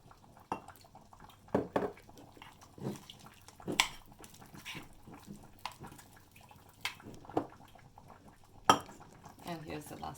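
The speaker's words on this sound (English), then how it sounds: "let's add some cold water and mix it well" A spoon clinks and scrapes against a bowl as cold water is mixed in while making vegan Lithuanian cabbage rolls; close, irregular clatters and taps with short pauses between strokes.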